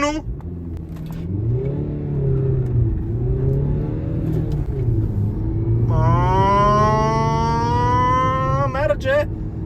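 An Audi Q5 accelerates hard from 0 to 100 km/h on an open street, its engine note climbing in pitch through several gear changes, with people talking over the rising roar.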